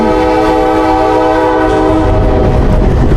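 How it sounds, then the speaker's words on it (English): A locomotive on a railroad turntable rumbles loudly and steadily nearby on the Texas State Railroad, with a sustained horn-like tone and grinding mechanical noise as it shifts slowly. "That's a turning table. They put the engine on"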